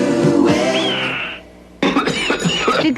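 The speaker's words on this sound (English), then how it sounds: "with this nasty cough plus congestion, I need... Formula 44D." A man coughs harshly a few times up close in a Vicks Formula 44D television commercial, the cough of someone with congestion, followed by voices talking.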